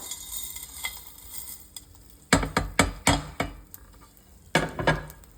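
Whole spices going into a hot pan for mutton enne kaara, giving several bursts of crackling sizzle and stirring clatter in quick clusters against a quiet kitchen background, with no talk.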